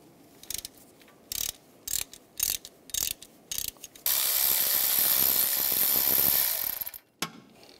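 A ratchet with an E14 socket loosens a belt tensioner bolt on a 2008-2016 Chevrolet Cruze: several short bursts of clicking, then a long, steady buzzing ratchet run, close and clear with no talk.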